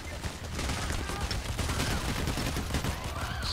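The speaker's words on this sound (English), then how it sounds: "Spamming my pistol like a boss." Rapid pistol gunfire in the PC video game Payday: The Heist, a dense continuous burst of shots layered over game noise for several seconds, fairly loud and steady.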